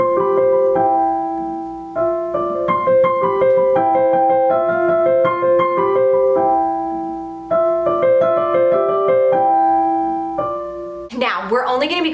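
Piano playing the intro of a song, a bright, sustained repeating figure of chords and melody, loud and close with continuous pedaled resonance, ending with a short vocal sound.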